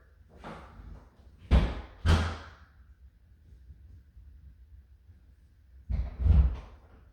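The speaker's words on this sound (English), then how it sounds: "This door catches really hard." A door that catches hard is pushed shut indoors, giving a few heavy thumps and slams close by, with a quiet stretch between the first bangs and the later ones.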